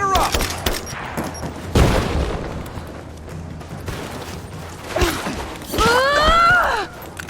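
Gunfire in a firefight from the video game Rise of the Tomb Raider: scattered sharp shots and short bursts crack over a rumbling battle bed, with a loud burst near the middle and a shouting voice rising toward the end.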